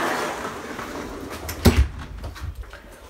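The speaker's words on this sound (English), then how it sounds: "I'll shut this door." An interior door in a house is pushed shut, giving one short, fairly loud thump with a brief rattle amid quiet room tone.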